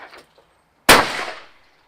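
A single sharp shotgun blast fired at a clay target, loud and close, its report decaying over about a second after faint murmuring beforehand.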